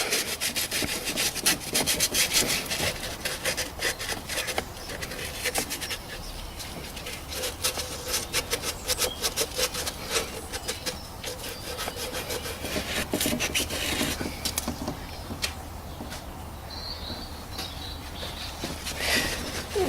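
Repeated scrubbing strokes clean the water pump mounting surface on a 2007 Toyota Prius, a close, rasping back-and-forth rhythm that pauses briefly and then resumes, with occasional quiet speech in the background.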